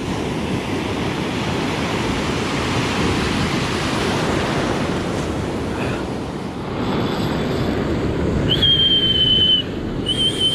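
Small ocean waves break on a beach during shore fishing, heard as a loud, continuous roaring surf wash with a faint whistling tone late in the clip and no talking.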